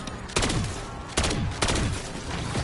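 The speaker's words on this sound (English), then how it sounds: "Now that you actually really shoot, you ain't gotta worry about overheating the gun." Black Ops 7 Zombies gun firing with no reload, in three distinct loud bursts of shots about a second apart, each trailing into a ringing decay.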